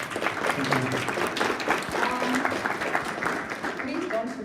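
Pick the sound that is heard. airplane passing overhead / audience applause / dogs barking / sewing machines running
audience applause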